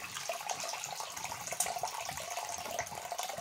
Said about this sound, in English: I'm just going to be running some water into my sink so I can rinse this all